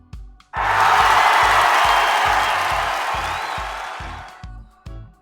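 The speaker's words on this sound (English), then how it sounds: "Cheer." A canned crowd-cheer sound effect from a budget voice changer and sound mixer swells up suddenly and roars for about four seconds before fading, over a regular low thumping beat.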